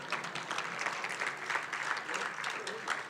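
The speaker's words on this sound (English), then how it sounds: "you can clap, he's here." An audience applauds steadily, a dense patter of clapping that stays even and continuous throughout.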